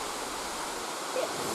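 A waterfall at a tourist site gives a faint, steady rush of falling water, an even hiss with no clear breaks over a short stretch.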